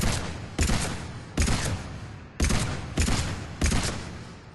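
Carnifex heavy pistol firing in Mass Effect 3, six loud sharp shots at a steady, slightly uneven pace, each with a booming crack and a short decaying tail, no voices.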